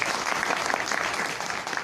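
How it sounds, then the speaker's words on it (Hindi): An audience at a business motivation seminar breaks into loud, sustained applause, a dense wash of many clapping hands that stays strong throughout. "एक जोरदार ताली चाहूंगा।"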